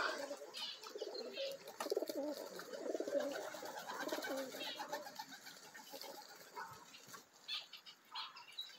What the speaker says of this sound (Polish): Taki króciutki filmik chciałem nagrać, jak winerki latają, bo fajnie latają